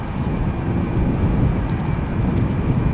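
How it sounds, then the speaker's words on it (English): Delta Airbus A330-300 airliner, eight years old, lining up on the runway at Amsterdam Schiphol Airport, a steady broadband jet engine roar heard from a distance, constant and fairly loud throughout, with no talking. "Delta flight 257 is lining up. It is an A330-300."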